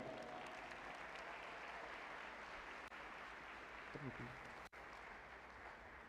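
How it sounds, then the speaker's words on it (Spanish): An audience applauds a doctor as he is introduced at a talk, a dense, steady wash of clapping throughout, fairly faint and distant, with a brief voice partway through. "Doctor José Villela, un aplauso fuerte por favor para él."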